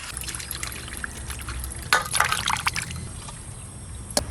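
Water pours and splashes over river-caught fish pieces being washed, with trickling and a burst of sloshing near the middle and a brief splash near the end, close by and without speech.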